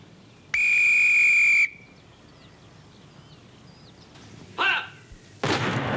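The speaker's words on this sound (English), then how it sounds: "I'm due to blow the whistle in 30 seconds." A single long, loud, steady whistle blast, followed by quiet, a short distant chirp and a sharp burst at the end.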